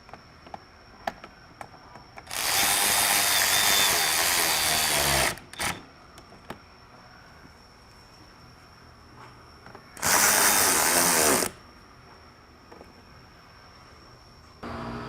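A cordless power driver with a T40 Torx bit tightens bolts on a Polaris intake manifold, two loud sustained whirring bursts of about three and one and a half seconds, separated by quiet clicks and handling noises.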